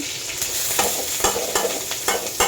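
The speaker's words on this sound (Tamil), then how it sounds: "காஞ்ச மிளகா போட்டு அது கூட பூண்டெல்லாம் போட்டுட்டோம்" Dried red chilies and garlic fry over high heat in a pan, with a steady close sizzle and repeated scraping stirs at an even rhythm. No voices are present.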